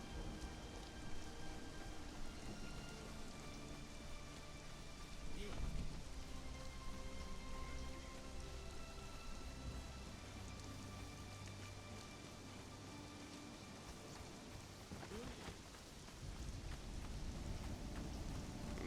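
Steady rain falls at Setmaru Docks in a video game, a soft continuous patter on surfaces with a few faint thumps, no voices heard.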